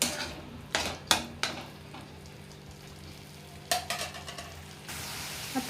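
Homemade masala for a crab and prawn curry roasts in a pan with a low steady sizzle, while a few sharp spoon clacks against the metal come at irregular moments, up close and without voices.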